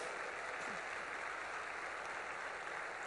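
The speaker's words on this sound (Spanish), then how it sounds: "un aplauso a las mujeres" A church audience applauds during a sermon on the family of Emmaus: dense, continuous clapping from many hands, steady and loud throughout with no voice on top.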